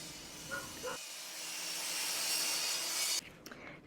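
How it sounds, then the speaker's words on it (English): After a brief voice, a table saw without a dado stack cuts a quarter-inch dado groove into a wooden drawer board, a rising hiss of blade through wood lasting about two seconds before stopping sharply. "we'll run the boards through 2 times to get the 1/4 inch dado groove"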